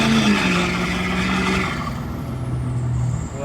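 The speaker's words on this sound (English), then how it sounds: "let's take it out for a quick test drive to see if the handling is changing" Ford F-250 pickup fitted with wheel spacers on a road test drive, its engine humming steadily close by with tyre and road noise and no talk.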